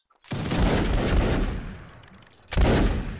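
A musket volley in a Napoleonic line battle video game: a sharp ragged burst of many near-simultaneous shots crackling on for over a second, then a fresh loud volley after a short lull.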